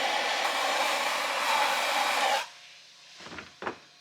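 A heat gun blows hot air in a steady, close roar while rear bash bar parts are fabricated for a manual C8 Corvette drift car. The roar cuts off and is followed by a few faint knocks.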